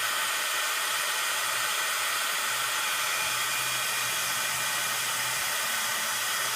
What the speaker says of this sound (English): let me just run my heat gun